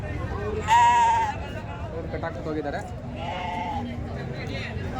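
A single loud goat bleat rises over outdoor background noise at a weekly sheep and goat market in Chandapur, followed later by a fainter second bleat while someone talks.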